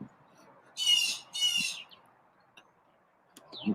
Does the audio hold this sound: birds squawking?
yes